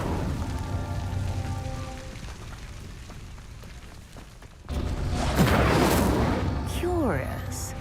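An Incendio fire spell cast in Hogwarts Legacy bursts in halfway through as a loud whooshing, crackling flare that lingers as roaring flame over a quieter ambient bed.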